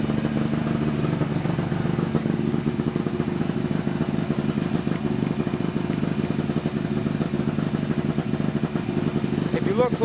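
A Ski-Doo Rev snowmobile idles steadily in a garage, giving an even, close, rattling engine drone with no change in pace.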